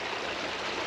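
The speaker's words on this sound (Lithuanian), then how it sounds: "Iš laukų kokiais opeliais bėga ir nuspalvina visą vandenį rudas." Brown runoff from the fields streams along a full ditch in a winter forest, a steady close rush of flowing water with no voices.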